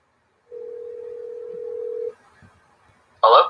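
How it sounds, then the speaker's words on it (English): A telephone line calling a radio guest gives a steady tone of about a second and a half, then quiet clicks and a short ring burst at the end. "Get Justin here on the phone here."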